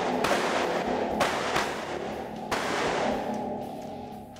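Rifle shots fired on command during a shooting drill with rifle transitions and barricades, a few sharp, loud reports at uneven intervals ringing out over an open range.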